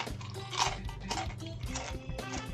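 Close, wet chewing and mouth noises from a person eating during a Minecraft speedrun, with soft clicks and a low steady hum underneath; no clear talk.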